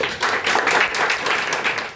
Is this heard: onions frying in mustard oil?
no